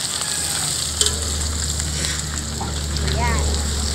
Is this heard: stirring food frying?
yes